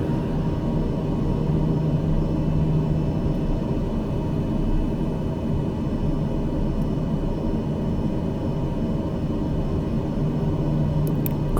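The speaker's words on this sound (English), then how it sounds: "the throttle back down to idle here as we slow down" Inside the cabin of a Daher TBM turboprop with the engine throttled back to idle, a steady, loud, unbroken drone and rumble fills the whole stretch with no talking.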